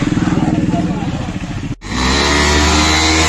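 Motorcycle engine revving during bike stunts at a stunt school in India, a pulsing throttle burst that cuts out briefly, then settles into a steady loud drone, close by.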